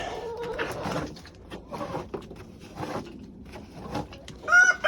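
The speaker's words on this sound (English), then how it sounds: "couple chickens came in here with me." Several chickens clucking nearby in short, irregular bursts, with scuffling and a brief higher call near the end.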